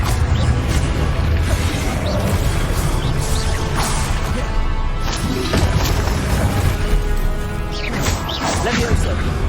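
Fiery Confringo spell blasts in the Hogwarts Legacy video game, with booming bursts and crashes rising out of a constant dense battle din, overlaid by shouted voices.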